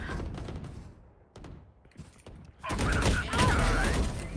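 Bursts of gunfire in a first-person shooter game, a scattered volley of sharp shots followed by a louder, denser stretch of fire and game effects, with some faint talk mixed in.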